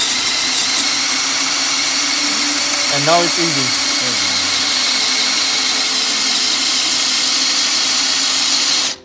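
A power drill in first gear bores into wood with a German-made FAMAG wood drill bit, producing a loud, steady, continuous motor roar for the full length, with someone speaking briefly over it partway through.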